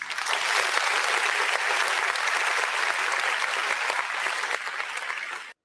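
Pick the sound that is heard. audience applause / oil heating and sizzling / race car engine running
audience applause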